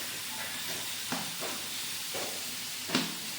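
Chopped lemon pieces drop into hot oil for a pickle, giving a steady sizzling hiss with a few sharper bursts as pieces go in and get stirred.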